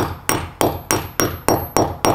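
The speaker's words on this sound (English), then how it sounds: "Next step, grab a hammer and hit that plug" A hammer drives a plastic wall plug into a hole in brickwork with eight sharp, evenly spaced strikes. Each close, loud crack rings briefly and fades before the next blow.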